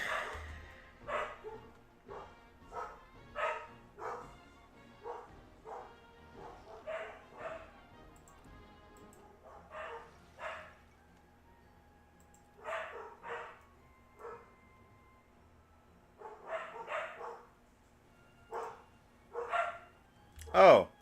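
Dogs bark intermittently at a distance, faint and quiet, in loose clusters of woofs and yips separated by pauses over a long stretch, with a sudden louder bark near the close.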